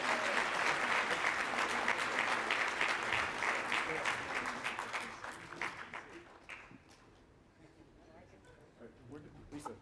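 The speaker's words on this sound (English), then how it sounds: "Round of applause again for Reese and Stephanie." Applause erupts at a real estate competition night for two participants on stage. It starts as dense clapping from a sizable crowd, then gradually dies down to a few scattered claps and murmurs.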